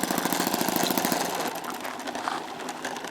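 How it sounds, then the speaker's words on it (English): Model airplane engine idling too fast with the throttle trim fully down, a close, loud, rapid buzzing chatter with a steady pulsing rhythm, no talk over it. "it's idling too fast even with the throttle trim all the way down"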